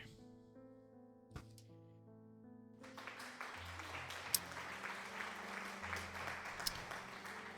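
Applause wells up after a few seconds of quiet tonal music, a soft, distant patter of many hands that continues steadily, with a couple of sharp clicks on top.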